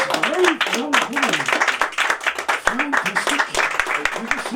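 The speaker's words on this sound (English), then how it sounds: "A warm hand of applause for this great young woman." Audience applause for a young woman volunteering on stage at a live talk show: lively, uneven clapping from the crowd while someone speaks over it throughout.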